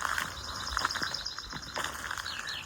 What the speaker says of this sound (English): I hear song sparrows. I hear acorn woodpeckers